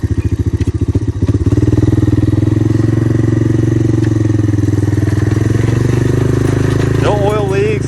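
A Honda ATC 250ES Big Red three-wheeler idling loud and close. Its rapid, steady thumping firing pulse runs throughout, and a voice is briefly heard near the end.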